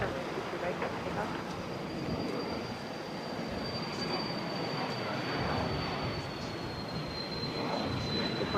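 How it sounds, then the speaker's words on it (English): A Phenom 300 business jet taking off from runway 22 right at Boston airport, heard as a steady, fairly distant roar with a thin high whine running through it, alongside faint talk. "This Phenom 300 is taking off to Naples."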